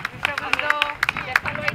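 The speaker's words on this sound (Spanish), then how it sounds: "Un aplauso." An audience at the XII Carrera del Roscón race trophy ceremony in Zaragoza breaks into quick, scattered clapping, close and lively, with crowd babble running underneath.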